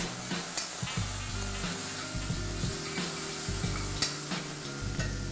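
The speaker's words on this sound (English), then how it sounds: "Just let's saute this for a minute." Ginger paste, garlic paste and chopped green chilies sautéing in oil, a dense steady sizzle with frequent light stirring scrapes, close and even throughout.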